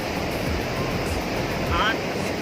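Sath Dhara waterfall, where the Indravati river splits into seven streams over rocks near Barsur, gives a steady, loud, unbroken rush of falling water with some wind buffeting the microphone.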